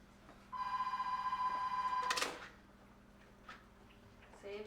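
A telephone rings indoors in one sustained electronic trill lasting about a second and a half and ending with a clatter, fairly close, with quiet room noise after.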